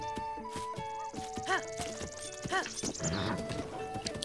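A horse in Zelda: Breath of the Wild clip-clops along steadily, with chiming game sound effects and music layered over the hoofbeats.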